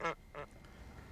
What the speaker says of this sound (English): If a duck's quack's gonna echo, it's gonna echo in here.